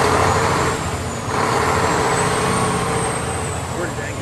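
A 2007 Mack CHN613 truck engine with 300,000 miles idles, then rises in two short revs, a loud, close diesel rumble with a faint high whine running through it.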